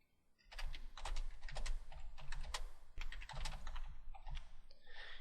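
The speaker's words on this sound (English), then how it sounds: "Let's go ahead and click within that feedback pane and type that." Quick bursts of keystrokes on a computer keyboard as a comment is typed into a feedback pane, close and crisp, with short pauses between words.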